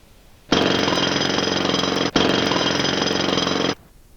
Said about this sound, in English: so we can go ahead and put our bolts in